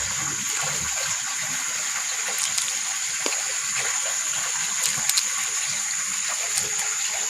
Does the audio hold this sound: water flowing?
yes